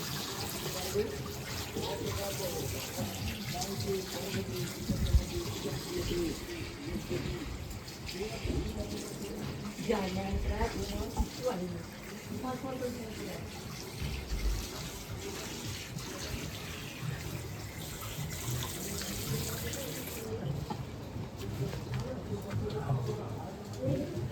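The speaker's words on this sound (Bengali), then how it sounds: "এই শোন জল ছিটছে, কিন্তু কি জল ছিটছে, হাতে ফেনা যাচ্ছে না, এদিকে জল ছিটছে।" Water runs and splashes from a tap onto hands and a sink, a steady gushing stream with irregular splatters, heard under a conversation between people nearby.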